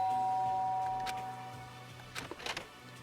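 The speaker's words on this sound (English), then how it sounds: "There's a doorbell next to the door. I guess I should use that." A video game doorbell at a dormitory room door in Danganronpa rings with steady sustained chime tones through the first second or so, followed by brief soft clicks and rustles near the end.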